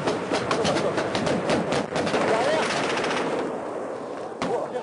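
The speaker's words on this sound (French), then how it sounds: "j'ai l'impression que les coups de feu, ils viennent de là-bas" Bursts of automatic gunfire during a firefight involving the French army in Afghanistan, rapid cracking shots in dense rattling volleys that thin out toward the end, loud and close with a single sharp shot near the close.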